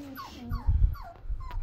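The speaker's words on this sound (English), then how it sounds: "If you want to find Natalie, she's always with the puppies." Puppies whimper and yip in a quick run of high, sliding cries, close by and fairly soft, with low rumbling handling noise beneath and no talking.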